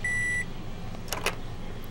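A microwave in The Sims 4 gives a clear electronic beep at the start, followed by faint game ambience and a few soft clicks.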